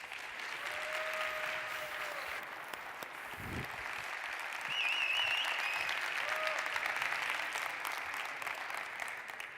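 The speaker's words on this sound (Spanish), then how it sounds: "Recibamos con un fuerte aplauso a Paco Martín" A tech conference audience welcomes speaker Paco Martín with sustained, fairly soft applause from a large hall, an even wash of many hands clapping with a brief thump partway through.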